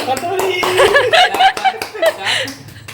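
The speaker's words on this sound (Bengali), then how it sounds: "হাততালি দাও হাততালি দাও" Hands clap in a quick, uneven series close by at home, mixed with people talking and bits of laughter.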